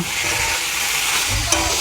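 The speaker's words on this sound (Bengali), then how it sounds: "মশলাগুলো ভালো করে ভেজে নেব" Spices fry in a hot pan for a catla fish curry with a steady, close sizzling hiss and a brief scrape of stirring near the end.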